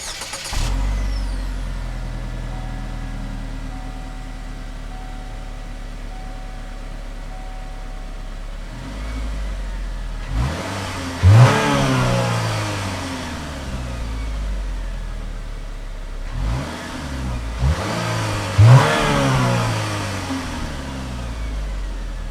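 A 2017 GMC Terrain's 2.4-liter four-cylinder engine idles steadily, then revs up in two strong accelerating bursts with rising pitch, close and loud, with no talking.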